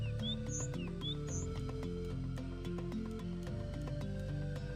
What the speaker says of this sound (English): Oh no, that's a bird.